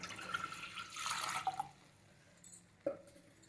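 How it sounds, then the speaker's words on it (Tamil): Water poured from a small vessel into a pressure cooker on a gas stove while cooking Tamil-style lentil kootu; a short splashing gush for about a second and a half, then quiet with a brief later trickle. "ஒரு சொம்பு தண்ணி விடுறேன்."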